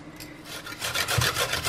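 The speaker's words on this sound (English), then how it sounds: "We have to peel the potatoes." A hand-held potato peeler scrapes close-up along a raw potato in quick, rough, rasping strokes, getting louder toward the end, with no voices.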